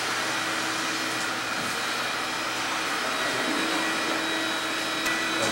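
A vacuum cleaner runs continuously in a house interior, a loud, steady broadband whoosh with an even hum that holds unchanged throughout and no talking.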